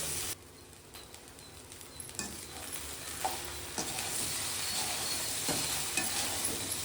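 Cooked rice being stirred and mixed through a hot pan for egg rice: a soft sizzle runs under repeated scraping strokes of a utensil, close and moderately quiet, with no voices.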